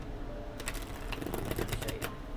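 A tarot deck being shuffled, with a run of quick papery riffling snaps that start partway in and continue in dense bursts against a low room hum.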